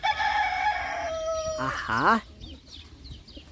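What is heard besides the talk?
chickens and rooster crowing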